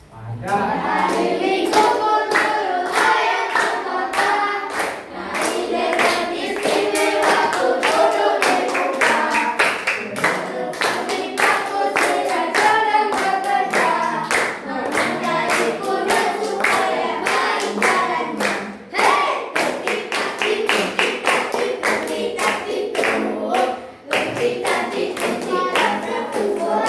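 A group claps hands together in counted sets, with sharp bursts of claps following one another throughout and faint voices mixed in underneath.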